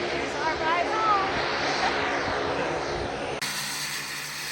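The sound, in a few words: seaplane taking off for return flight to Juneau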